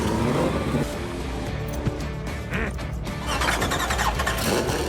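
A street-legal Ford GT roars at full power during a top-speed record attempt, a loud, steady engine drone that holds for the whole stretch with no break and no voices over it.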